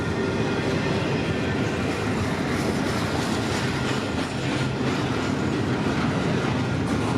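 A freight train with a mid-train DPU locomotive rolls past in a continuous, steady rumble with rhythmic wheel clatter, no voices over it.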